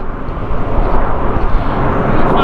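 An airplane roars overhead, a loud broad engine rumble that swells and holds steady near a railway station on a flight path, heard alone without talk.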